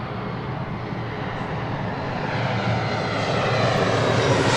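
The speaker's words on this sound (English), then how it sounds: "Right up next is an E-Jet Alaska SkyWest, Flight 3387, coming in from San Jose, California" Alaska SkyWest Embraer E175 LR regional jet landing at LAX, a steady broadband engine roar that grows gradually louder as it approaches, with no voices over it.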